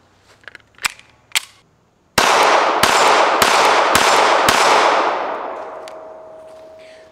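Springfield Armory Hellcat .380 pistol firing 77-grain S&B XRG hollow point rounds: a couple of faint clicks, then five sharp, loud shots in quick succession with a lingering ring afterward.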